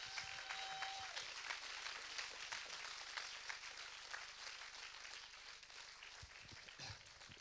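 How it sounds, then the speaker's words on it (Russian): A church congregation breaks into applause, a dense, crackling wash of many hands clapping that carries on steadily at a moderate distance throughout. "Если хотите аплодировать, аплодируйте Господу."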